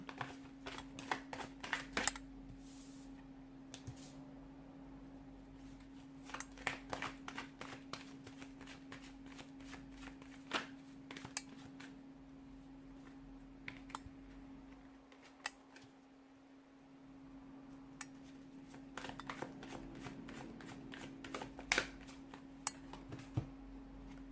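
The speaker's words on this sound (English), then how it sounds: "give the cards a shuffle" A deck of tarot cards is shuffled repeatedly, giving crisp riffling and snapping bursts in irregular clusters, close to the microphone against a steady low electrical hum, with a short quiet gap midway.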